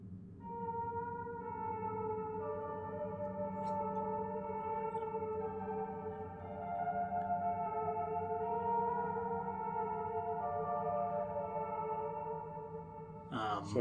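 A piano melody from the video game Fatal Frame 4 plays as steady, sustained tones that shift pitch now and then across a held drone, at an even level with no pauses.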